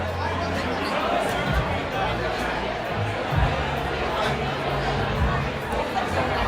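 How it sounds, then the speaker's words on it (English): Large, loud crowd chattering outside a bar in Brooklyn at night, a dense steady babble of many voices close by with low rumbling underneath. "That is a very loud, giant crowd"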